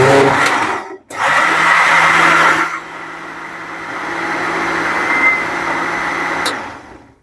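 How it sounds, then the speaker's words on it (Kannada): A mixer grinder blends a mango smoothie with a loud, steady whirring roar, cutting out for a moment near the start and then dropping to a lower, even hum as it keeps running. "ಮತ್ತೆ ಮ್ಯಾಂಗೋ ಜೊತೆಗೆ ಹಾಕ್ಬಿಟ್ಟು ಇವಾಗ ಅದ್ರ ಜೊತೆಗೇನೆ ಮಿಕ್ಸಿ ಮಾಡ್ತಾ ಇದ್ದಾರೆ"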